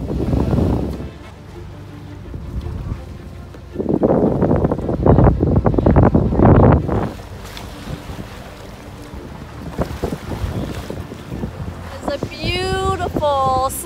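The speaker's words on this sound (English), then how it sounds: "Slightly windy morning right here along the shores of Lake Michigan." Wind gusts across the Lake Michigan shoreline near the Straits of Mackinac on an autumn morning, roaring and buffeting the microphone in strong surges with lulls between, with no one speaking over it.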